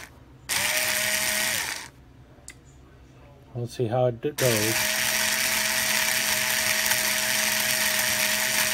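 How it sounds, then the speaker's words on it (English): A power drill boring into a bone knife handle whines in two bursts, the second long and steady, with a voice speaking briefly between them. "I'm just going to put my drill in place and hope for the best and start drilling."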